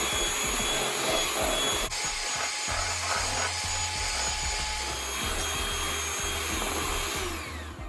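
An electric hand mixer runs at low speed through thickened custard for a jelly custard cake, a continuous close motor whir with a steady low hum and scraping texture, unbroken and without speech.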